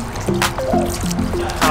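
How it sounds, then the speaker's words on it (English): Hot spring water, around 144 degrees, trickles steadily out of the ground in Hot Springs, Arkansas, a constant close-up burble with faint tonal voices drifting over it. "The water directly coming out of the ground is like 144."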